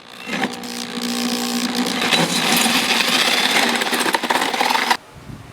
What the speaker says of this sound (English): Go ahead and drill your hole.